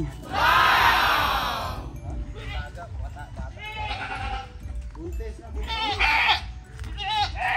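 Goats on a farm bleating repeatedly, loud nearby calls overlapping in an uneven series, with people talking among them.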